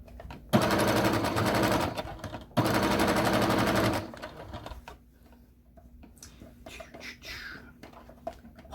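Sewing machine stitching an envelope-style pillow cover, running in two loud, close bursts of steady rapid stitching with a short pause between them, then stopping while quiet handling noises and faint voices follow.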